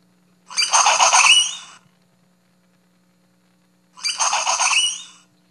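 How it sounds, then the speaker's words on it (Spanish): Two recorded spider monkey whinny calls, each a shrill, wavering whinny lasting over a second, separated by a few seconds of quiet over a faint steady hum. "trabajé con una vocalización en particular que dan los monos araña."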